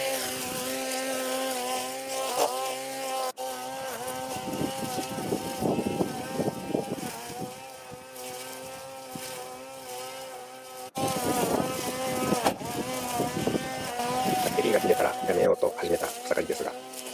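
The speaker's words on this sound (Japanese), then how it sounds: "こんな隅っこまで草刈りすることができました。" A cordless electric grass trimmer with a nylon blade cuts grass into a corner, its steady motor whine loud and continuous throughout, rising in pitch in places, with a voice talking over it at times.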